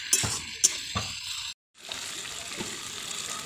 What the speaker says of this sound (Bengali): এইবার এই যে মশলা ধোয়া জলটা দিয়ে দিলাম